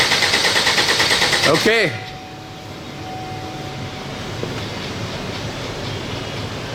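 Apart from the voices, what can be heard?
engine cranking with fuel injection disabled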